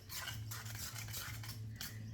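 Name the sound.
mixing wonton filling in a bowl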